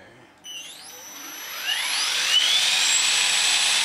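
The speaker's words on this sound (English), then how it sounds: "when I go to idle up, there's no difference in the head speed change" An Align T-Rex 600 RC helicopter whines as its motor and rotor head spin up, a rising electric whir that climbs steadily in pitch and settles into a loud, sustained tone, with no talk heard.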